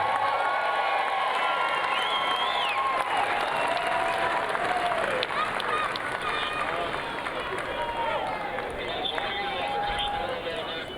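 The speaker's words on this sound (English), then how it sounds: "Let's give a big round of applause for Josh Smith, Bobby Witt Jr., Seth Rulo" Crowd applause and cheering roll through a ballpark at a Kansas City Royals spring training game against the Texas Rangers, a long wash of clapping with scattered whistles and shouts and a voice talking over it.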